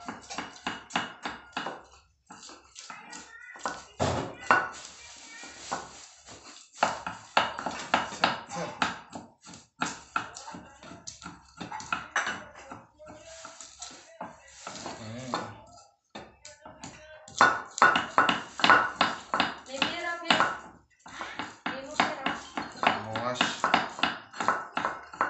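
Stone pestle works chili, shallots, garlic and galangal in a stone mortar, giving a dense run of close, clacking taps and scraping strikes in an uneven rhythm, with a voice talking at times.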